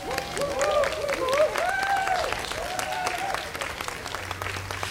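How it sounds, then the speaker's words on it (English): An audience applauds children at a Michigan Pinwheels for Prevention event, a continuous wash of clapping mixed with raised voices and cheering calls, fairly loud and sustained throughout. "Why don't we give these great children another round of applause?"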